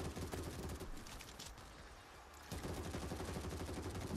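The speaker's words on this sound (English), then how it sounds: "just keep shooting them, just keep shooting them" Rapid, dense gunfire from World War Z game combat against zombies, sustained bursts of automatic shots close and loud, briefly thinning before resuming in heavy volleys.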